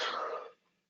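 A single short, dry cough from a man with a lingering cough, close and fairly quiet, fading within half a second.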